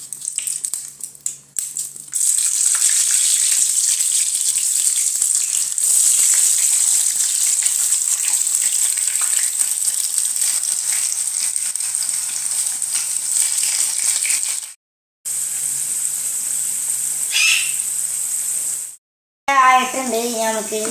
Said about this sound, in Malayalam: ഓയിൽ ഇതേ ഇവിടെ ചൂടായിട്ടുണ്ട്. ഇനി നമുക്ക് പൊട്ടറ്റോ സ്ലൈസ് ആക്കിയിടാം.